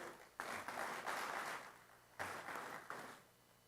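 An audience applauding at an investment summit: two bursts of dense clapping, the first swelling and holding for about a second and a half, a short lull, then a second round that fades away.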